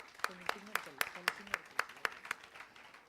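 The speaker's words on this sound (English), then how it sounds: "Let's give a big round of applause to him first" Panel audience at a national colloquium session claps in a steady, evenly spaced rhythm of sharp hand claps, about four per second, fairly near, with a voice speaking underneath.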